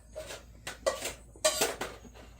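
A plate set over steak outdoors clatters in a series of sharp ceramic knocks and scrapes, several distinct clinks spaced unevenly and close by, with no speech.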